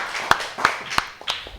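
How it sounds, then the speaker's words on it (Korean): A few scattered hand claps from a church congregation during a Korean full gospel Sunday worship service, about four sharp separate claps at a steady pace, fairly faint, with no talk. "하나님께 영광의 박수 드리겠습니다."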